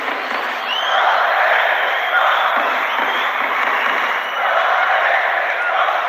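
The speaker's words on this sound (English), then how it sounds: "Well, you hear the crowd," A large arena crowd at a judo world championship roars and cheers without pause, a dense, loud wash of voices with scattered applause that holds steady throughout.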